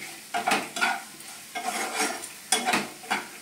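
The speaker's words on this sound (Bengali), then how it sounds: "দিয়ে ভালো করে মশলাগুলোকে একটু কষিয়ে নেব" Spices fry gently in a pan over a low flame while a spatula stirs them, producing soft intermittent scraping and light sizzling bursts in a quiet, close setting with no talk.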